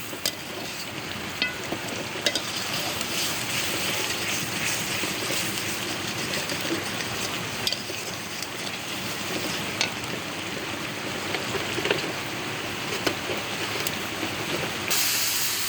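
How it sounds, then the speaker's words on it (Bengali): Spice paste for an egg curry sautéing in a pan with a little salt and sugar, a steady sizzle and hiss with scattered crackles and occasional stirring scrapes, close and continuous with no talking. "এবার দেখুন মশলাটা কষানো হয়ে গেছে।"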